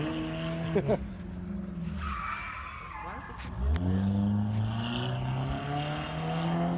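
A Chevrolet Cavalier race car at a King of the Heap autocross event squeals its tires through a skid with severe understeer after running over a cone, engine revving, while a commentator talks over it.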